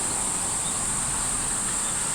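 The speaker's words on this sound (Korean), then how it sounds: "매미소리는 시원한데" Cicadas drone in a steady high-pitched buzz, moderately loud and continuous, outdoors at a Confucian academy in Gumi, Korea, just after rain, with no voices.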